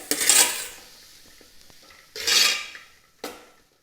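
A banana flower and chickpea thoran stir-fry being stirred in a pan with the stove off: three brisk scraping sweeps of a spoon against metal, separated by near silence, close and fairly loud.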